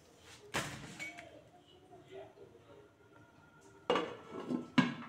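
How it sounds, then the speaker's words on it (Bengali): A lid set down on a pot of simmering cauliflower pakora curry gives a couple of sharp, close metallic clanks near the end, after quieter kitchen clatter and a single bump earlier. "এই যে ঢাকা দিয়ে দিলাম।"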